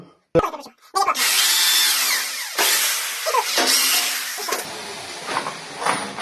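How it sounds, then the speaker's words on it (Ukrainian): An electric drill with a 5 mm bit bores holes into a wooden board for a homemade trailer, heard as loud, close whirring bursts with rising and falling pitch and short pauses between holes. "Взяв дрельку, сверло п'ятерочка."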